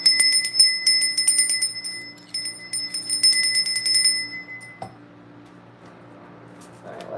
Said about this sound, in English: Did I ring that bell?